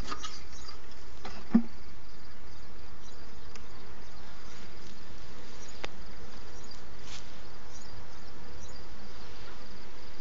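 Honeybees in an open hive during an inspection done without a veil, giving a steady, faint, continuous hum with a brief click and light rustling, no voices.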